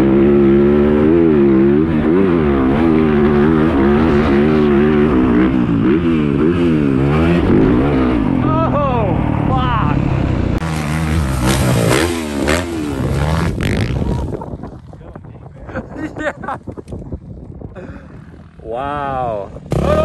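Dirt bike engine held wide open in first gear at the dunes, loud and close with rising, wavering pitch sweeps for about fifteen seconds. It drops off toward the end to scattered clatter and a fainter rev, with voices talking over it.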